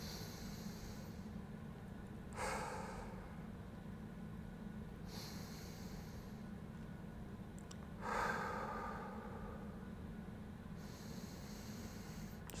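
Slow, deep breaths taken while holding a 90/90 hip stretch, three soft airy exhales spaced a few seconds apart over a quiet room hum, close to the microphone.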